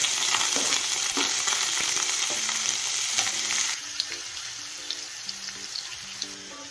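Onion fries in hot oil with cumin seeds, curry leaves and chilli for a chicken kheema, making a loud, dense sizzle that softens partway through. Light stirring clatters come through near the pan.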